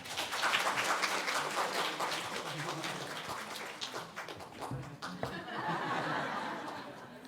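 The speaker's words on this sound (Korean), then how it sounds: "우리 한 번 더 크게 박수하겠습니다." A church congregation at a Sunday service claps after a prayer, with dense, sustained applause that thins toward the end, heard at moderate distance with some voices and light laughter mixed in.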